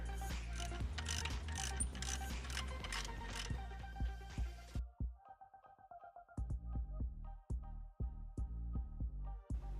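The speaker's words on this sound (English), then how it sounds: "Now we're going to remove this bolt right here using a 13mm socket and a 3/8 ratchet." A 3/8 ratchet with a 13mm socket working on an alternator bolt of a 1999–2004 Ford Mustang, giving rapid clicking bursts of ratcheting, then slower separate clicks near and clear with no talk.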